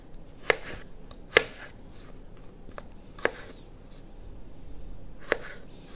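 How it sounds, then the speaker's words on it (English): Knife chopping roast-dinner prep on a crowded cutting board, four separate sharp chops spaced a second or two apart, close and moderately loud over a quiet kitchen background with no talk. "Losing room on my cutting board here. It's enough chopping"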